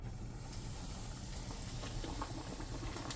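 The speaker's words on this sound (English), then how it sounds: "Drop a fish in." Fish sizzles in melted homemade butter in a pan, a steady close crackling hiss with scattered pops and spatters, and no voices.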